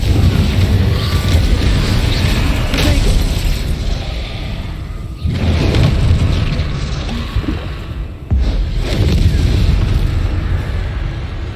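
Explosive spells cast over and over in a wizarding video game, a near-continuous barrage of loud booms and bursts with short gaps, dense and heavy throughout.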